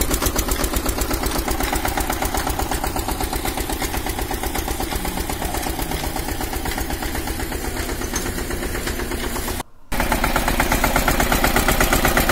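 A tractor engine powering a sugarcane crusher used for jaggery making chugs loudly and steadily with a fast, even knocking rhythm, cutting out for a split second near the end before resuming.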